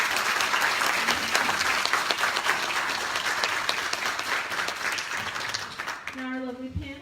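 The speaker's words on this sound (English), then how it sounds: "Everybody give them a good round of applause." An audience at a panel event applauds, a dense, sustained burst of clapping that fades near the end as a voice starts speaking.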